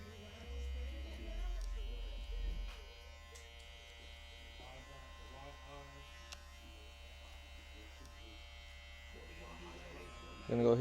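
Hair clippers fitted with a half guard run with a steady low electric buzz while cutting a taper, a loud stretch early on then a quieter continuous hum.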